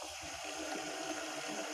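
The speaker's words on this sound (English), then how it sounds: "Turn the water aspirator on full" Steady rushing hiss of a laboratory water aspirator turned on to full flow for vacuum filtration, a continuous broadband gush of running water with no pauses.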